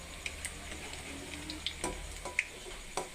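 Urad dal vadas frying in hot oil, a soft steady sizzle with scattered small pops and spatters, fairly quiet and close, nobody speaking.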